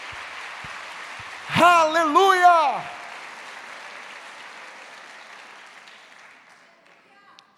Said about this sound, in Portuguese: Quem crê nessa palavra dá um aplauso para Jesus bem forte